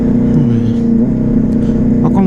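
A VW Gol car accelerates along the road ahead of a motorcycle, its steady engine drone running throughout beneath close talking.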